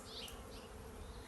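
Honey bees from an opened hive during an inspection of drone and worker frames give a steady, dense buzzing drone that stays close and constant throughout, with no voices.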